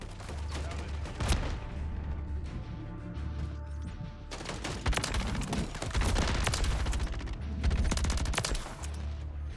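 A BP50 rifle firing in Modern Warfare, with rapid automatic bursts in several long volleys separated by short pauses, loud and close over a steady game background.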